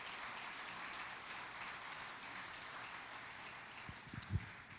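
A church congregation applauds during a sermon, a faint, even wash of clapping that carries on steadily throughout, with a couple of louder knocks near the end.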